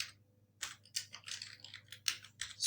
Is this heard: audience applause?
no